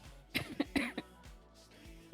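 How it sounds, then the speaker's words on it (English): A person with a lingering cough coughs several times in short, close bursts with small pauses between, followed by softer throat sounds; quiet and indoors. "I still have a bit of a cough."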